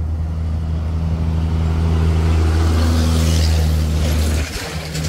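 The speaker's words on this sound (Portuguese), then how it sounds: "Olha, vem um caminhão com tudo ali." A sugarcane truck at the Usina Cucaú mill in Rio Formoso, Pernambuco, rushes past at speed, its loud, steady engine drone holding close before dropping off abruptly near the end.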